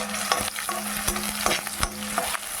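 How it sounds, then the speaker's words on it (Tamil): Shallots and green chilies sautéing in a pan right after mustard seeds have popped, for Chidambaram kothsu: a dense, close sizzle with quick repeated spatula scrapes. "கடுகு நல்லா பொரிஞ்ச உடனே சின்ன வெங்காயமும் பச்சை மிளகாவும் 2 பச்சை மிளகாய் சேர்த்துருக்கேன்"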